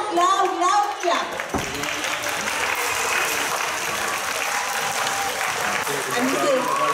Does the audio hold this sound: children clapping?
yes